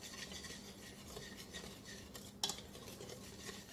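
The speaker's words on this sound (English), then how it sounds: "I'm going to give that a little whisk to get it all incorporated." A whisk clinks and scrapes around a bowl of baking soda, baking powder and salt, a quiet, rapid rhythmic rustling with one sharper metallic tap partway through.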